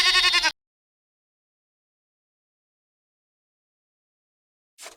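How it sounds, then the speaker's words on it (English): A sheep bleats once, a short wavering baa up close, followed by long silence and the start of another bleat at the very end. "The black sheep goes baa."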